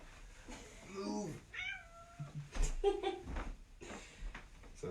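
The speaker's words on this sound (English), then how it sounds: "I'm gonna have to move this cat." A house cat meows several times in quick succession, close by and fairly clear, with rising and falling calls, amid soft bumps and shuffling in a room; a person speaks briefly between the meows.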